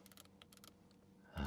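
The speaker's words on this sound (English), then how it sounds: "now they are bringing back the scroll wheels, and they even scroll clicking sound." Scroll wheel control inside a new Audi RS5 PHEV cabin, giving a quick series of light, close mechanical clicks in short bursts, then a louder rustle or handling noise at the end.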